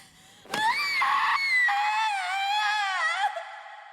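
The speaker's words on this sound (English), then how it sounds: "The scream that she lets out to end that scene, both in sub and dub, makes me tear up." Anguished scream from a woman in an anime scene, a loud sustained wailing cry with shifting pitch that starts abruptly, carries on for nearly three seconds and then cuts off.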